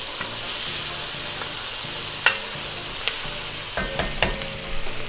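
Browning onions sizzle loudly and constantly on a Blackstone griddle while a wooden spoon stirs them, with scattered scrapes and knocks that grow busier toward the end.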